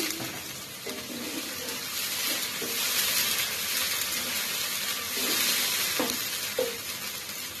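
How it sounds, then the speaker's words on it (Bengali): A cup of water poured into ginger and garlic frying in a pan for a Bangladeshi beef liver curry, giving a steady broad hiss and sizzle with a few soft clinks, close and moderately loud, with no talking. "এখন আমি 1 কাপ পরিমাণ পানি দিয়ে দিলাম।"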